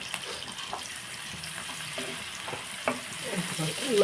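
Onions cooking in a pan for a Sunday prawn biryani and chicken fry, a low, steady sizzle with faint scraping and clinks of stirring, no voices.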